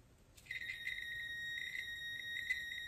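Multimeter continuity beep while testing the two flat pins of a mini fridge thermostat, a single sustained electronic tone starting about half a second in and holding steady, fairly quiet and alone.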